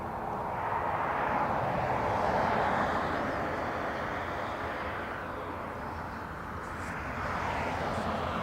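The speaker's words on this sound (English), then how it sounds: "A Ryanair from Glasgow." A Ryanair airliner arriving at Dublin Airport makes a continuous broadband jet roar at moderate distance, swelling and easing slightly over several seconds, with no talking.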